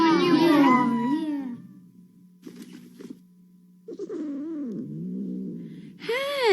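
A cat, a kitten grown bigger, gives drawn-out meows at the start and again at the end, with a softer purring or mewing passage in between, fairly close and clear.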